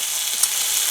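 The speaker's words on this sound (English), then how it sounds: "if you look at what's going on in the cast iron frying pan, the bacon is sizzling pretty nice and getting crispy" Bacon sizzles and crisps in a cast iron frying pan, a steady close bright hiss of spitting fat with a few small pops, heard alone.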